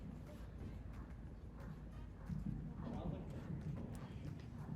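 Horse hooves canter through a working canter in an eventing dressage arena, a steady rhythmic clip-clop that is muffled and moderately close, heard alone with no talk.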